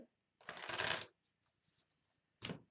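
A deck of tarot cards is riffled and shuffled by hand in a quiet room, one long papery burst followed by faint handling and a short second riffle.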